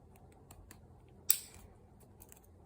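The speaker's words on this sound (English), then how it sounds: "put the tip of my scissors through the teeth." Utility scissors snip through the teeth of a fly-front zipper in one sharp close cut with a brief crunch, set against faint background ticks and no speech.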